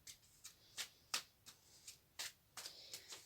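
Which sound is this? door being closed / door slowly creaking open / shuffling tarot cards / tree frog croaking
shuffling tarot cards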